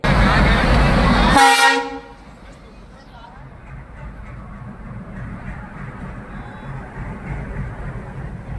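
A loud train horn blares for about a second and a half as the train arrives at a station, then cuts off, leaving the low rumble of the train and faint background noise.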